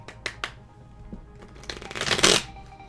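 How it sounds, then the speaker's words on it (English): Worn, well-used playing cards being shuffled at close range: a few quick riffle bursts early on, then a longer, louder riffle and bridge near the end, with no talking. "I always shuffle 3 times."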